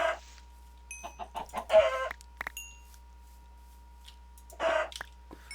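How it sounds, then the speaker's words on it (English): Minecraft chickens cluck in short clustered bursts, a loud group near the start and another near the end, over a faint steady game background hum with no voices. "another good food source would be chickens"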